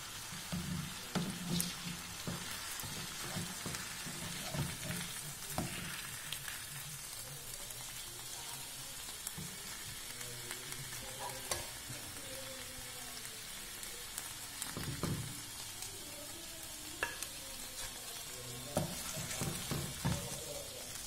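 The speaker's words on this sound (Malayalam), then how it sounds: "ബാക്കിയുള്ള മീനും കൂടെ ഇതുപോലെ വറുത്തെടുക്കുക" Karimeen (pearl spot fish) sizzles and crackles steadily in hot oil in a pan, a soft continuous frying hiss with occasional pops and stirring scrapes.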